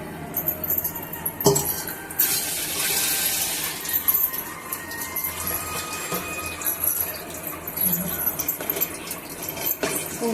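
Two tumblers of tamarind water are poured into a simmering curry-leaf kuzhambu, giving a short splashing gush followed by scattered clinks and light kitchen clatter.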